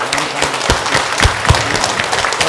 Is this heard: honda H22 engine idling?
no